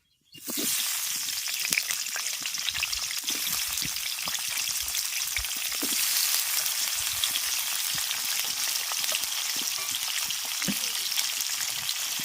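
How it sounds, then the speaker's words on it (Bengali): Steady, loud frying sizzle of potatoes in hot mustard oil with salt and turmeric, with scattered crackles and pops throughout, close and continuous without speech. "এবার আলুগুলো ভেজে নেবো"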